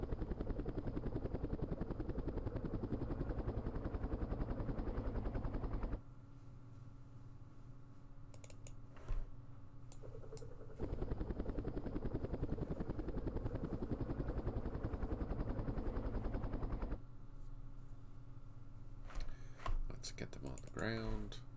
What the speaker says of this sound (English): These helicopters are heading back to Dong Tam.